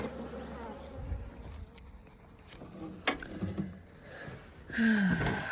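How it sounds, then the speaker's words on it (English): Bees coming out of a hose during a hive removal buzz steadily at close range, a busy insect drone with a few louder passes near the microphone. "A bunch of bees came out of the hose."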